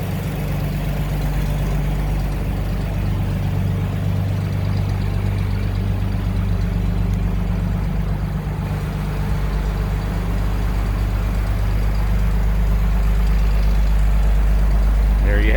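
A 1929 Chevrolet 1.5 ton pickup truck idles, heard from behind the vehicle, giving a continuous low, even engine hum and steady exhaust drone throughout.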